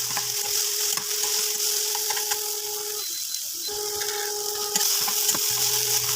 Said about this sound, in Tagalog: i-add natin yung kamatis at igigisa lang natin hanggang sa madurog yung ating kamatis